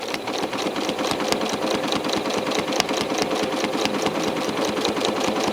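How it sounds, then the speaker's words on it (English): A sewing machine doing free-motion quilting on a grid-based whole-cloth design; rapid rhythmic mechanical chatter of stitching at steady speed, close and continuous, with no speech. "So I'm just barely bouncing right off the edge of the grid. Stitching, and I'm just going corner to corner."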